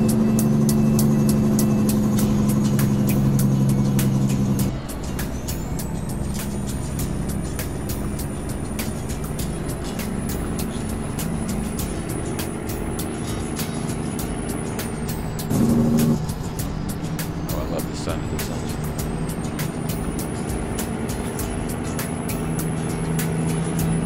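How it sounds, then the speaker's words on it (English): A Peterbilt 389 truck in American Truck Simulator drones with a steady, deep diesel rumble, its revs rising and falling, and a short hiss of air brakes partway through. "I've always loved the engine sound on this truck"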